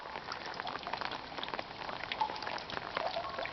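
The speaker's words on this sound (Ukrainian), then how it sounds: "Дощик зранку." Light morning rain in Kharkiv patters in a soft, continuous hiss of fine drips, faint and even throughout the short stretch, with no voices.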